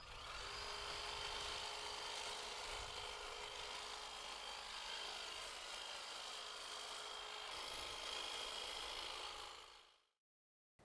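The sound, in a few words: Cobra 24V cordless hedge trimmer cutting a hedge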